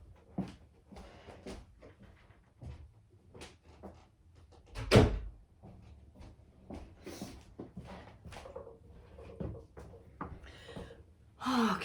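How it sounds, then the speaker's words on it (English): A door is shut with a single loud thud near the middle of an otherwise quiet indoor stretch, surrounded by soft shuffling, breathing and small handling noises. "I'm just going to shut the door and I'll be right back."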